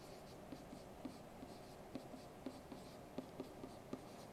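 Pen or marker writing out a system of equations as a matrix: quiet scratching strokes with soft taps at a steady working pace, close and faint, with no talking.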